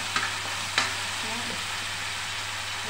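Stuffed eggplant masala fries in oil with a steady close hiss, with a couple of light clinks from stirring early on.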